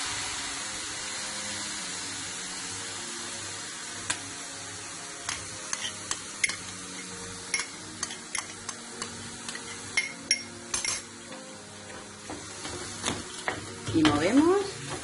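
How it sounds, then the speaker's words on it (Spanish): Black rice with prawns and clams is stirred in a hot pan after white wine goes in, a steady sizzle and frying hiss broken by repeated scraping spoon knocks, close and fairly quiet with no talking. "Y movemos hasta que se reabsorba el vino blanco."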